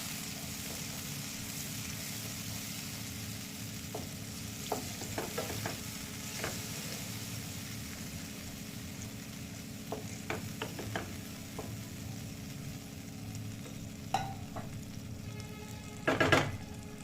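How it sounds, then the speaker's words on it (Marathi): A spoon stirs mushroom and pea masala curry frying in a pan, with a steady sizzle under repeated scraping and clinking strokes that grow busier toward the end; no one speaks. "व्यवस्थित मिक्स करून घ्यायला."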